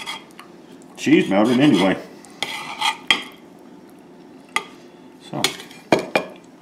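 Knife and fork scrape and clink against a plate while cutting into a goetta stuffed pepper with melted cheese, a burst of sawing scrapes followed by scattered taps, with someone speaking briefly.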